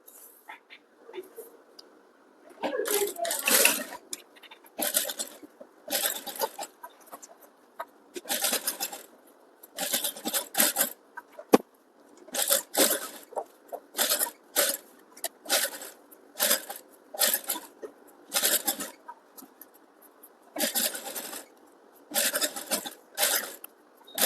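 A sewing machine stitches piping onto a princess-cut blouse in repeated close bursts of rapid whirring, stopping and starting many times in a steady pattern.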